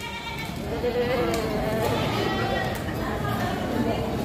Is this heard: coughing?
no